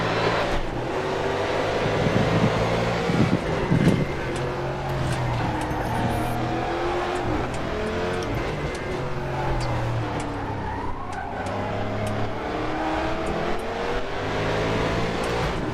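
A pack of DTM92 Mustang race cars at Zandvoort in a sim racing game, their V8 engines roaring and revving close by in a continuous, shifting drone of several cars at once.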